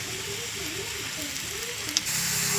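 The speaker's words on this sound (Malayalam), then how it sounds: "എണ്ണയിൽ കിടന്ന് നമ്മുടെ ഏത്തപ്പഴം അങ്ങ് പൊരിക്കുന്നുണ്ട്" Ripe plantain fries in hot oil with a constant, close sizzling hiss, and a faint murmur of voices in the background.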